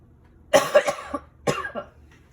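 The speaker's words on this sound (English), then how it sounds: "I got a cough" Two short bursts of coughing, the first a quick cluster of three or four coughs, then a pair, close and fairly loud in a quiet room.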